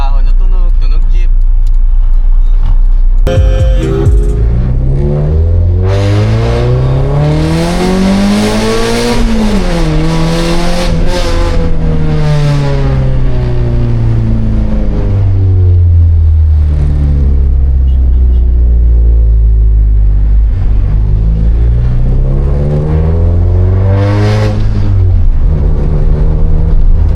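A Honda Civic with a straight-pipe exhaust revs repeatedly, loud and close, its raw engine note climbing and falling through long swells with a harsh rasp, and someone talks over parts of it.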